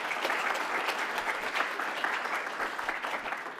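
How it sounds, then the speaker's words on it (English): Conference attendees at an annual meeting give speakers a final round of applause, a continuous, fairly even burst of many hands clapping that fades a little at the close. "If we could give a final round of applause"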